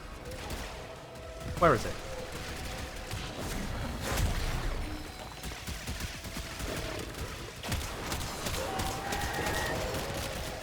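Enemy gunfire in the video game Warframe, a busy wash of rapid shots and whooshes across the whole stretch, with a person talking over it.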